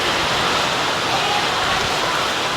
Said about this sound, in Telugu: అసలు వర్షం అయితే బీభత్సంగా పడుతూనే ఉంది